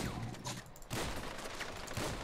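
Rapid automatic gunfire crackles continuously through a Grand Theft Auto V multiplayer match, steady and fairly loud, with short bursts overlapping and a brief lull before the shooting resumes.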